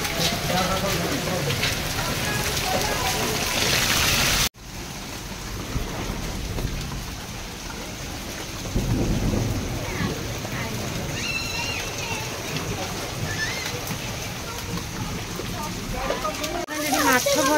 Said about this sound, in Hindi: ये वर्षा